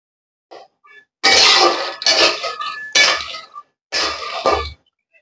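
Peanuts are dry-roasted in a kadai, with bursts of scraping, rattling and clinking as the nuts are stirred around the pan. The sounds come close and loud in four or five short runs.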